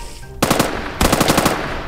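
Guns from lucky blocks fire in Minecraft in two loud, close bursts of rapid machine-gun shots separated by a short pause, with no talking.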